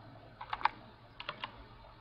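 Keys on a computer keyboard are tapped in two quick clusters of three or four clicks, faint and close, with a low hum behind them and no talk.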